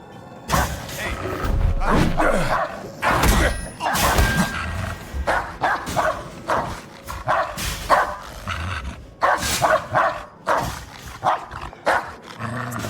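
A dog barking in the video game Indiana Jones and the Great Circle, a rapid run of loud, close barks repeating in bursts over several seconds, with game noise around them.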